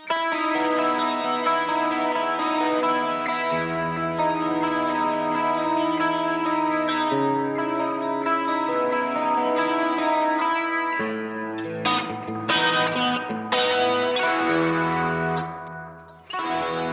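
Electric guitar with a shimmering, doubled chorus tone plays sustained chords and melodic lines, ending in quicker picked notes. No voices.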